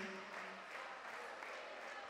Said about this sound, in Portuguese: Para nossa irmã, uma salva de palmas.